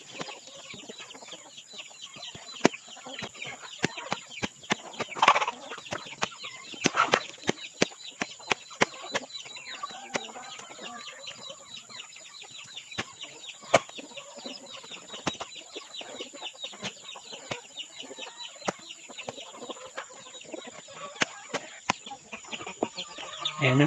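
Rhode Island chickens feeding on scattered jackfruit scraps in the afternoon, with steady soft clucking and pecking, occasional wing flaps and louder bursts from the flock, moderately close.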